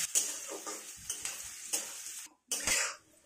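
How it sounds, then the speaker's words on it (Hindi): Sliced potatoes and onions fry in a pan, heard as a soft sizzle with repeated spatula scrapes and clinks against the metal, a short pause, then more stirring. "और प्याज को भी आलू के साथ गुलाबी होने तक इसको भून लेते हैं।"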